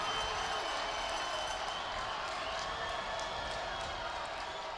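High school football fans in the stands at a Central Catholic vs. Clackamas game cheer in a steady roar of crowd noise, with a voice talking over it.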